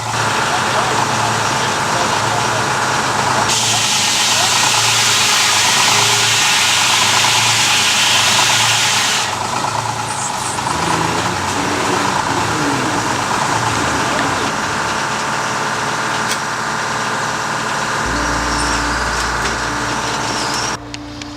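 A loud Detroit diesel engine powering a sawmill runs steadily throughout, a dense continuous rumble with a hissing, clattering texture that shifts in tone partway through.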